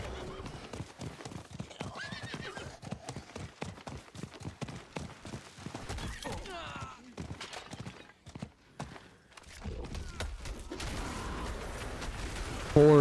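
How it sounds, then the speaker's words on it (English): Video game horse sounds: rapid clip-clopping hooves patter steadily, joined by a horse's whinny and snorts, with a louder neigh near the end. "Horse noises."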